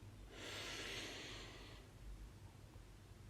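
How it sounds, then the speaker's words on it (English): A single deep inhaled breath taken during a morning meditation, close and soft, a smooth airy rush lasting about a second and a half before fading into quiet room tone. "let's begin by taking a deep breath in"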